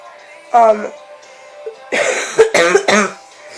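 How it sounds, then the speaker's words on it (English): A few harsh coughs from a person with a cold, close and loud, in short bursts with brief pauses between them. "Sorry about my cough."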